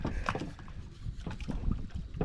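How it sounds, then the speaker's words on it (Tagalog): A small boat moves on the water, with soft splashes and knocking against wood amid gusty wind noise on the microphone, close by. "kinuha na ho ni Tingay ang kanyang bangka"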